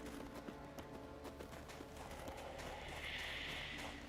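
Hooves clip-clop in a quick steady rhythm as a horse gallops in The Witcher 3, faint and continuous under a soft wash of in-game ambience.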